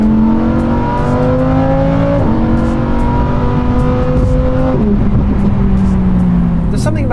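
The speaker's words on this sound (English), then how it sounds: "you can forgive this car everything for that engine note." Lamborghini Huracan Evo with its V10 engine revs hard and loud from inside, climbing steadily through several gears with sharp shifts and a crackle at the end.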